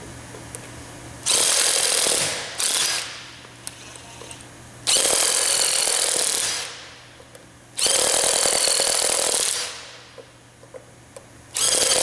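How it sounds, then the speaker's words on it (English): Loud bursts from an impact wrench fitted with a 552 quick change chuck during Plategrip installation, three long runs of several seconds each separated by quieter pauses with a low steady hum underneath. "we'll take our impact wrench, and we have what we call one of our 552 quick change chucks here"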